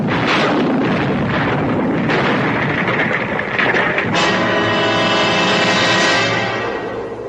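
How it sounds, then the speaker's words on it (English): A loud, sustained blast roars and rumbles for several seconds, dense and booming, slowly trailing off with a lingering resonant tail. "When suddenly there was a flash of light and a loud explosion."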